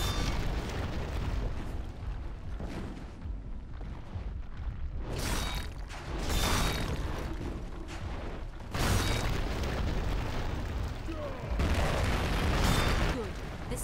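Deep, rumbling cannon explosions from the fantasy strategy game Battleforge burst loudly and repeatedly over a dense battle din, with heavy booms landing every couple of seconds and voices heard faintly underneath.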